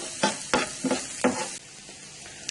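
Small chopped onion hits a pan of golden garlic and butter, producing a bright sizzle with four or five sharp stirring bursts over about a second and a half, then a softer, quieter fry.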